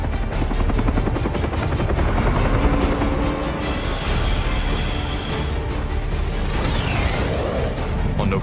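Attack helicopters in Vietnam War footage, a steady dense rotor and engine roar running throughout at constant loudness, with sharp bursts resembling gunfire scattered in and a sweeping whoosh near the end.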